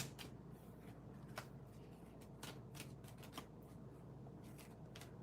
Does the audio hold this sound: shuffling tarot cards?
yes